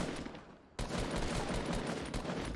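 Rapid gunfire from the Battle Royale video game, with a burst of repeated shots kicking in abruptly after a short lull and continuing loud and dense to the end.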